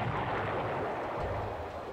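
An enemy grenade detonates during a mountain-crest firefight, heard as a loud, sustained rumbling blast with heavy low-end boom and no voices.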